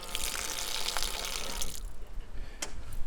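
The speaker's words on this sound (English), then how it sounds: "We have a 20-liter jerry can for running water," Water running from a 20-liter jerry can in a Suzuki Jimny micro camper, a close, steady splashing stream that lasts nearly two seconds and then drops to a faint trickle.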